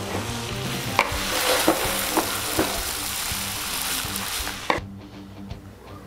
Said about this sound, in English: One quick stir.